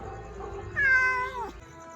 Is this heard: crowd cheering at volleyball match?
no